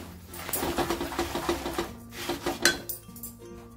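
Spoon stirring a sesame, peanut and cashew ladoo mixture in a pan over low heat, with busy scraping and clinking against the metal, close and continuous.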